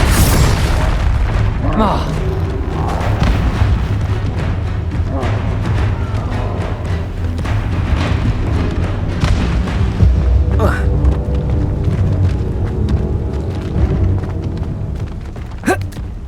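Confringo spell explosions in the Hogwarts Legacy video game, repeated booming blasts over a dense rumbling combat bed, loud and close, with shouted spell calls among them.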